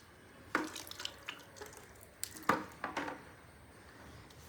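Water splashing and dripping in a sink while newborn clothes are washed by hand, with scattered faint drips and a few sharper splashes over a quiet background, fairly close.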